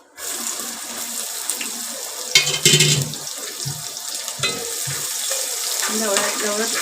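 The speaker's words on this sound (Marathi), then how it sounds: "कांदा टाकते." Chopped onion dropped into a hot frying pan for a Maharashtrian chicken vade and crab curry meal, giving a sudden loud sizzle and hiss around the middle that then settles into steady frying crackle, with some clattering and water-like noise nearby.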